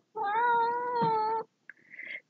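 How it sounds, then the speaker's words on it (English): A pet cat gives one long, loud, drawn-out meow close by, then a brief pause and a shorter rising second call, with no talking. "this is my kitty"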